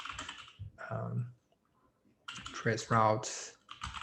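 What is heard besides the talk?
typing on a computer keyboard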